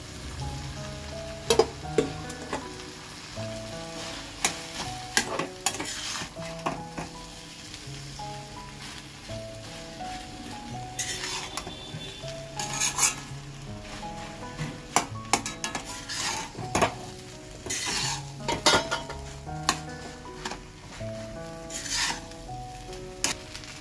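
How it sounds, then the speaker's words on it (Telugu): Pre-cooked rice being stirred into a fried tomato mixture in a pan, heard as a continuous soft sizzle with frequent scraping and clattering spoon strokes against the metal, close and fairly busy throughout. "ముందుగానే ఉడికించుకున్న రైస్ ఉంటుంది కదా, ఆ రైస్ ఇందులో కలుపుకోవాలి."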